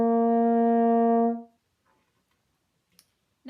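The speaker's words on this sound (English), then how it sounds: "if I put the mouthpiece into the horn and I buzz my lips into the mouthpiece, which goes into the horn, it sounds like this" French horn sounded by buzzing lips through the mouthpiece into the instrument, a single steady, warm sustained note lasting about a second and a half, then silence with small faint clicks.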